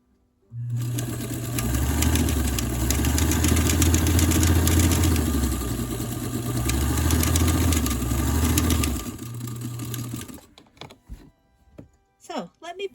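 A sewing machine stitches quilt blocks in one long, loud, continuous run of about nine seconds, its motor speed rising and easing in waves before stopping abruptly, followed by a few faint handling sounds.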